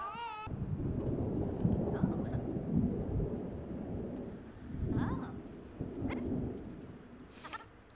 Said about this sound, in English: There's been a thunderstorm for over 12 hours now. This is just so loud.